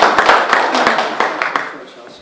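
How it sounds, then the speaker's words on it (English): A small room of people at a Chamber community outreach meeting claps for the Chelsea Police Department: scattered, uneven hand claps that fade away after a couple of seconds, mixed with talking. "I just want to applaud the Chelsea Police Department"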